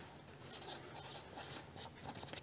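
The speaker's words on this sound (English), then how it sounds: "I'll just write wheels and tyres on here" Quiet pen-on-paper scratching as a note about wheels and tyres is written by hand in a 1925 Studebaker restoration workshop, with short strokes in a loose steady rhythm and nothing else over it.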